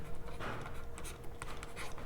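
A marker or chalk scratches and taps across a board during a Class 10 maths lesson on real numbers. The strokes come in short, irregular bursts and sound faint but close, with no speech.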